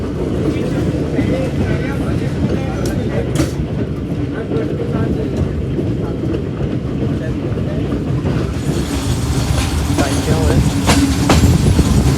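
A diesel locomotive, class GU40 no. 9052, hauling the Tezgam Express roars along at speed with a continuous heavy rumble and rhythmic rail clatter, loud and close throughout.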